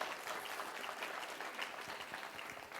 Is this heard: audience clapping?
yes